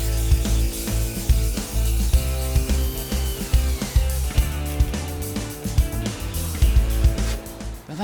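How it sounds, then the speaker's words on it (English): A belt sander with 40-grit paper grinds steadily against pallet wood, a loud continuous motor hum with rough scraping texture and small rhythmic bumps throughout. "I'm now going to be sanding this down with my belt sander using a 40 grit paper."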